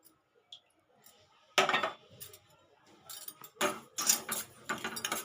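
Semolina (rava) dry-frying in a pan on a low flame, heard as irregular metallic scraping and clinking from stirring in quick clusters against a quiet kitchen background.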